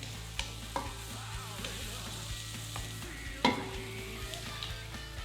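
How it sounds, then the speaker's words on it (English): Garlic and peppers sizzle steadily in a hot pan while being stirred, with a few sharp scrapes and clinks of the utensil, one louder knock standing out midway, close and without speech. "Add my garlic and peppers to the pan. Let's stir around."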